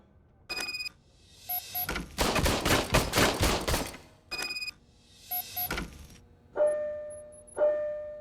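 An old service gun test-fired in a RoboCop video game: short clicking and ringing bursts, a loud sustained rattling volley of rapid shots in the middle, more clicks, then two tonal electronic beeps at the end.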